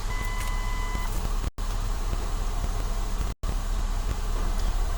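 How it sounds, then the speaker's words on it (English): A 2008 Ford Taurus engine cranks and settles into a steady idle, started with a remote starter. The rumble stays loud and close and runs continuously apart from two momentary dropouts. "the vehicle should crank and start"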